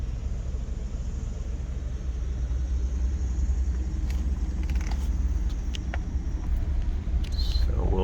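A vehicle driving slowly through an RV resort lined with tall oak trees, a steady low engine and tire rumble throughout, near and continuous, with a few faint clicks and rattles toward the end.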